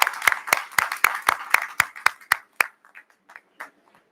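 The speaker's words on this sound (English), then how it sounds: "Please join me in applauding these graduates." Applause for graduates at a 2021 commencement ceremony: a strong, steady run of sharp hand claps fades to a few scattered claps toward the end, with no voices over it.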